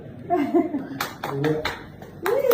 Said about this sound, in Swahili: Sasa mmoja kapiga makofi pale.